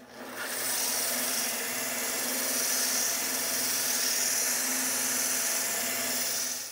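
A cut geode being polished with 6000 polish gives a steady, faint, continuous rubbing hiss of running machinery, unbroken throughout.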